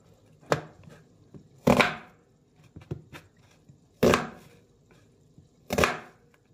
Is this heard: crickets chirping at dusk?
no